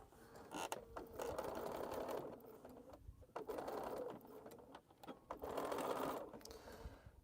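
A sewing machine stitches a tote bag handle in quiet, faint bursts of rapid rhythmic whirring, separated by short pauses.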